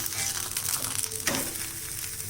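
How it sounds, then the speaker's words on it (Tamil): Sprouted ragi adai sizzling steadily in a hot pan on medium flame just after being flipped, a continuous close frying hiss with a brief louder burst midway. "இப்போ அடையை திருப்பிக்கலாம்."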